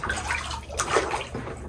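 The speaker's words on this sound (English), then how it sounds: "rock this back and forth and let it stir that lye up" Lye water sloshes in a rusty cast iron pan as it is rocked back and forth, a close, steady wet swishing with a brief louder splash midway.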